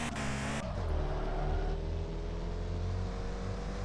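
Car engine in the Car For Sale Simulator video game, a steady, loud, close drone with sustained harmonic hum after a brief opening burst, no talk over it.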